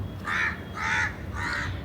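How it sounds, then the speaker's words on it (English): Three loud, harsh caws from a crow, evenly spaced about half a second apart, close by over faint background hum. "There is a crow that is really wanting my attention."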